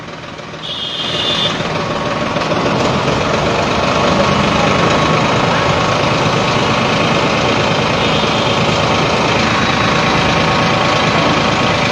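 Tractors in a farmers' procession through a town run their engines in a continuous heavy rumble, loud and close, with a brief beeping tone near the start.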